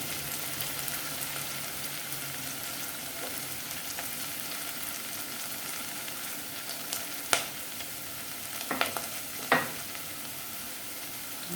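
Curry leaves and onion frying in oil over medium heat give a steady, even sizzle throughout, with a few sharp pops and spatters near the end.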